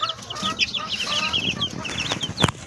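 Young chicks inside a warm box give rapid, high, overlapping peeps close by, a busy continuous chorus with a single soft knock near the end.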